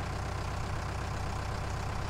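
Tractor in Farming Simulator 19 losing speed on a hill, a continuous deep engine drone with a pulsing low throb, close and unbroken, no voices over it.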